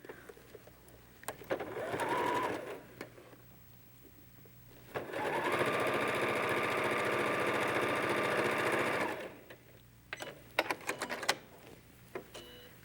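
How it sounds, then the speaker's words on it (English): A sewing machine stitches Dresden plate quilt seams in two runs, a short burst then a longer steady whir, with small handling clicks and rustles between and after. "Just sew these 2 seams"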